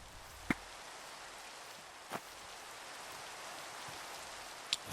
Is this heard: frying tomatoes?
no